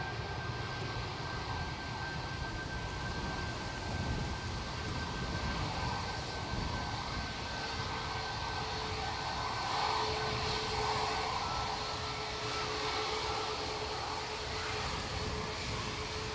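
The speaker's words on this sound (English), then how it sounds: "Departing to Naples in front is flight 6835 for Ryanair, operated by EIJS 737 MAX 8200" A Ryanair Boeing 737 MAX 8-200 departs from Manchester Airport bound for Naples, its engines a steady, distant rumbling roar with a faint whine that holds level throughout.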